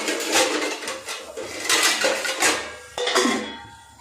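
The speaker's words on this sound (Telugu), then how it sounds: "ఇప్పుడు నేను మూత పెట్టేస్తాను" A metal cooking pot of onions and green chillies gets its lid clanked and shifted, with several sharp metallic knocks and scrapes, including a pronounced clatter near the end, close and fairly loud.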